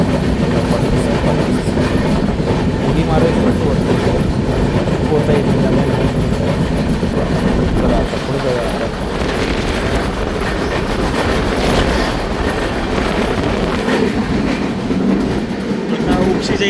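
Mandovi Express on the Mumbai to Vaibhavwadi Road route rumbles along as it slows down, a dense continuous roar of wheels and carriage noise with faint clickety-clack, heard from inside the moving train.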